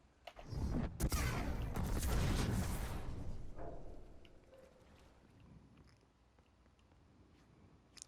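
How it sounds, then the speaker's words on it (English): A Novabomb Cataclysm Void Super detonating in Destiny, a sharp burst followed by a loud, roaring crackle that swells for a few seconds and then fades into a faint rumbling tail. "next test is going to be on Novabomb Cataclysm, the Void Super"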